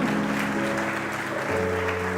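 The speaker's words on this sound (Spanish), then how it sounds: "Dale un aplauso al Señor." Church congregation applauding the Lord, a broad continuous clapping under a sustained organ or keyboard chord that shifts partway through.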